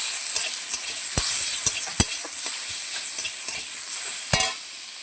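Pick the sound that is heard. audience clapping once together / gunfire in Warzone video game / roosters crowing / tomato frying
tomato frying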